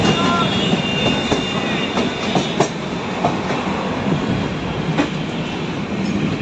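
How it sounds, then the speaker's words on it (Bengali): A train pulls out of Dakshineswar station near Kolkata, a steady loud rumble of wheels and carriages with faint clicks on the rails, close and continuous throughout. "ছেড়ে দিল আমাদের ট্রেন দক্ষিণেশ্বর থেকে।"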